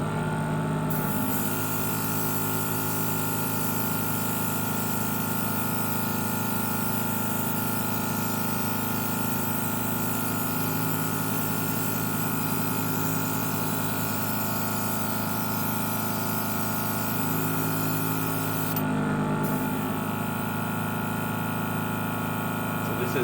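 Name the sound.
Nasedal airbrush and compressor spraying at full pressure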